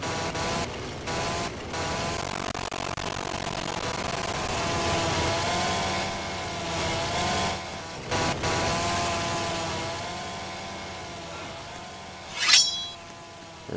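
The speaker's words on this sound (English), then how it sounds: "I'll just test out my chainsaw on you guys." A chainsaw-like engine in a Roblox game drones steadily with a buzzing harmonic tone, close and fairly loud, broken by a few short gaps and a sharp spike near the end.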